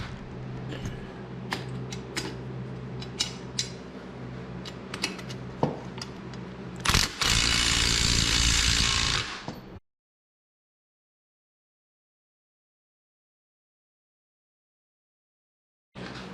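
A ratchet wrench or impact tool works thru-bolts on a wood MikroBeamer drill mount, giving irregular clicking and ticking, then a loud continuous buzzing burst before the sound cuts to silence.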